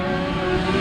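Grasstrack racing motorcycles come round the track on the last lap at an international meeting, a steady close engine drone with a rising tone through a brief pass.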